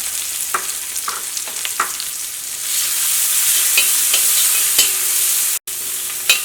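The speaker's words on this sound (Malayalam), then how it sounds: "ഇനി സവോളയ്ക്ക് ഒന്ന് നന്നായിട്ട് മുരിഞ്ഞിട്ട് നല്ലൊരു ഗോൾഡൻ കളർ ആവട്ടെ." Sliced onions, green chillies, crushed dried chillies and a pinch of cumin fry in a hot pan with a steady crackling sizzle, broken by a few sharp scraping stirs, with no talk.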